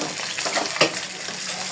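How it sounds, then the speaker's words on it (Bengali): Chopped onion dropped into hot oil in a pan already used for poaching eggs, a bright steady sizzle with a sharp burst of crackling as the onion hits, close and loud. "এখন পেঁয়াজ কুচি দিয়ে দেব।"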